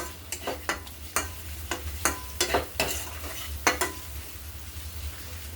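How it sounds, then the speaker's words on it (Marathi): Cashew curry masala with kasuri methi being sautéed in oil in a pan, with repeated scraping stirs over a low steady sizzle, close and fairly quiet. "आता मसाले छान तेल सुटेपर्यंत परतून घ्यायचे।"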